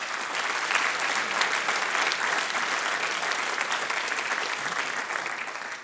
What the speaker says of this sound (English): Big round of applause to the mentors.